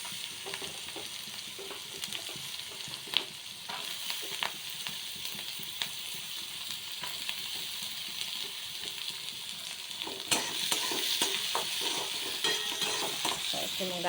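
Carrots and capsicum for red sauce pasta fry in a pan with a steady close sizzle, broken by frequent scraping stir strokes and spatula clinks against the pan, which grow louder near the end.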